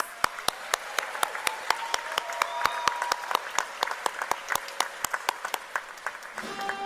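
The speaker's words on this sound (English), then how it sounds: "one last round of applause to our graduates, please" An audience at a university graduation ceremony applauds the graduates in dense, sustained clapping that continues throughout, with a brief rustle as it tapers near the end.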